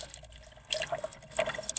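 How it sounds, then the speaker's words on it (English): A small battery-powered motorized pump dispenses a trickle of water with light splashing and dripping. The sound is soft, close and uneven, and the flow grows stronger after the first moment. "This is a motorized little pump thing that it's got a little battery."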